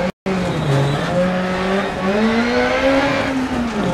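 A rally car on a snowy stage in a video game, its engine revving loud and close with rising and falling pitch through gear changes, tyres hissing under it after a brief cut at the start.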